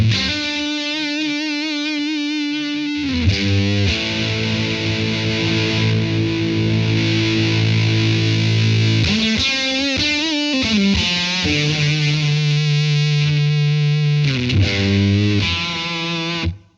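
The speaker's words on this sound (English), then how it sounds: "Sounds like fuzz to me." Electric guitar played through a fuzz voicing on a Blackstar Amped 2 pedal amp, loud and saturated, with sustained distorted chords and held notes changing every few seconds, heard alone without talk.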